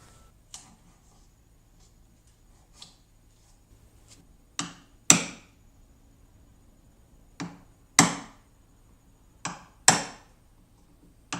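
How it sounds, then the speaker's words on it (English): Sharp wooden knocks of a hammer on a chisel while removing frets from an electric guitar neck, a few scattered light taps followed by several louder whacks at uneven intervals, with no talking. "just take a hammer, give it a couple whacks, and it'll just break right out of there"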